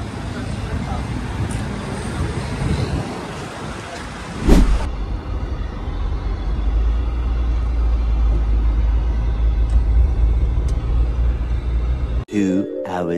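A pick-up truck on a test drive rumbles steadily from inside the cab, a continuous low engine and road drone with a sharp bump partway through, while people talk intermittently over it.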